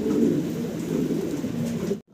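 Fancy pigeons coo continuously in a low, throaty, rolling murmur. The cooing is close and steady for about two seconds, then stops abruptly.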